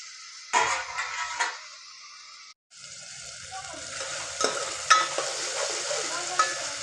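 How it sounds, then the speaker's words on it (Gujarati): Tomatoes and onions for a chutney cook in a pan, giving a soft sizzle with scraping stirs and clatter, a short pause, then a steadier, slightly louder frying hiss. "હવે આ ટામેટાને આપણે 5-10 મિનિટ જેવું ચડવા દેશું।"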